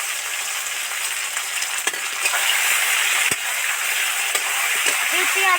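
Papaya pieces added to hot oil with bay leaf, dried chillies and purul, producing a steady, loud frying hiss with a few clacks and scrapes of stirring, while a voice talks briefly over it.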